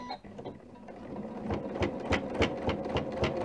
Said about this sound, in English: And now we'll start sewing on the right hand side.